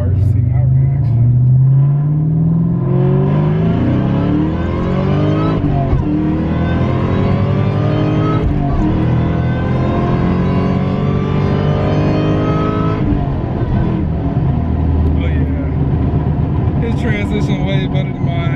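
A Ford Mustang Cobra Terminator accelerates hard with traction control off, its loud engine revving up through rising pulls close by, with a shift break around the middle and people talking over it.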